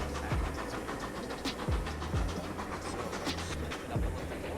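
Locomotive in a Roblox train game chugging at moderate throttle, a rhythmic series of puffing bursts with low thumps at irregular intervals over a steady mechanical hum, fairly quiet.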